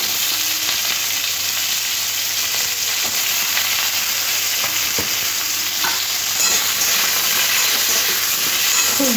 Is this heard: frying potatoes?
yes